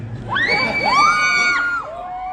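An audience at a San Diego Comic-Con panel cheers loudly, with high whoops and shouts rising over a dense burst of crowd noise and applause.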